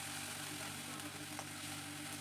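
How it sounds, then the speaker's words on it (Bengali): Chopped onion and green chili fry in a wok for a potol prawn curry, giving a continuous, even hiss of sizzling oil that stays steady and close throughout, with no voices. "কড়াইতে দিয়ে দিলাম পেঁয়াজ কুচি আর লঙ্কা কুচি দিয়ে দিলাম"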